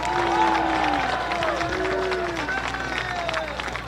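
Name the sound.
crowd applause at football game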